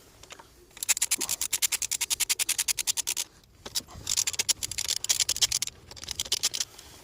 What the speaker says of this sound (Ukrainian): Відкручуємо, тут у нас головка на 10.